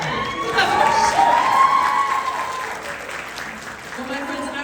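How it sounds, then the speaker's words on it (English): An audience at a voice actor Q&A panel applauds and cheers for the episode director, a dense wash of clapping with some cheering that swells early, then slowly fades while a voice carries over it. "So clap for Shawn."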